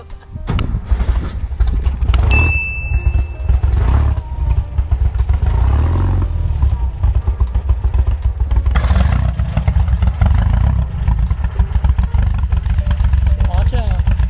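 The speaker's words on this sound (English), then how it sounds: "Starting the beetle." Air-cooled 1975 VW Beetle engine powering a trike starts up and settles into a loud, steady idle, its rumble running continuously beneath people talking nearby.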